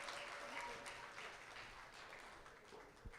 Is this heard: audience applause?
yes